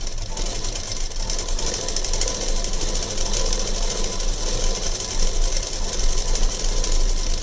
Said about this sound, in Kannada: ಈಗ ಇದನ್ನು ಈ ರೀತಿ ಹಿಂಗಿಟ್ಕೊಂಡು ನೀಟಾಗಿ ಸ್ಟಿಚ್ ಹಾಕ್ಕೊಬೇಕು.